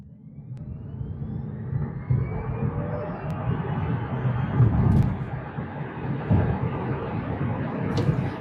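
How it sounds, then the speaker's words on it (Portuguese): A BYD Dolphin SE or GWM Ora BEV 58 (2026) electric car accelerates from 0 to 100 km/h in Sport mode, giving a steady broad rumble of road and wind noise that swells gradually over several seconds with no engine note. "colocando o carro aqui no modo Sport, freio, acelerador e soltando o freio."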